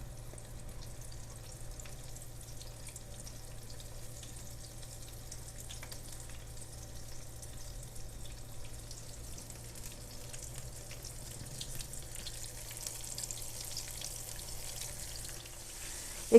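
Chicken tenders fry in hot oil with a soft, steady sizzle and faint crackles that hold an even level throughout, with no one talking.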